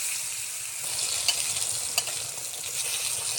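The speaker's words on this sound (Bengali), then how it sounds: "তেলটা গরম হয়ে গেছে, এখন বেগুন দিয়ে দিব।" Eggplant pieces fry in hot oil with a loud, continuous sizzle up close, broken by a couple of brief crackling spurts.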